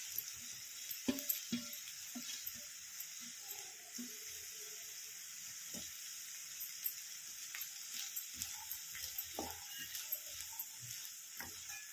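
Green moong sprouts tossed into a pan and stirred, heard as faint scattered scrapes and soft clatters of a spoon over a steady background hiss, with no talking.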